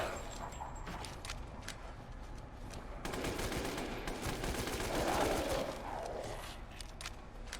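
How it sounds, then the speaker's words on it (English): Rapid assault rifle fire from the WCX in the video game Resident Evil Village, with dense bursts of loud shots layered over game ambience and effects, continuing for several seconds. "The WCX is the assault rifle that will melt your enemies as well as your ammo pool with how fast it consumes ammo."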